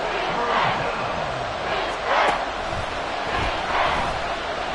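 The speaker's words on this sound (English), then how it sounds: "this crowd trying to force a false start here" Roaring stadium crowd at an American football game, loud and sustained with swelling surges of cheering and yelling, a dense wall of noise pushing to rattle the offense before a third-and-inches snap.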